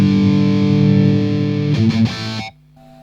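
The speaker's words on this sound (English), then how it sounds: "Line 6 distortion," A heavy rock guitar riff runs through the distortion model of a Line 6 M9 effects pedal with the treble turned down, giving a loud, thick, saturated tone with sustained chords. The riff chops briefly, then settles into a quieter held note.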